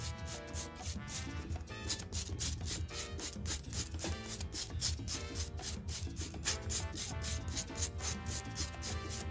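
An electric nail drill running at about 15,000 RPM buffs a gel nail with a bit, giving a faint motor hum under quick, rhythmic rubbing strokes that repeat steadily.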